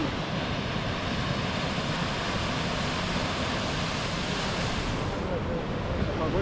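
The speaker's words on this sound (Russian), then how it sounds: "О, водопад грохочет." A waterfall roars during a trip to Matlas, a steady, dense, unbroken rush of water that stays loud and constant throughout, with no talking heard.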